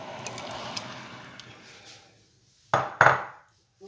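Cornstarch and butter mixture for eggless pastry cream stirred in a pan: a steady soft scraping rush that fades out, then a brief pause and two sharp, close clinks of a utensil against the pan.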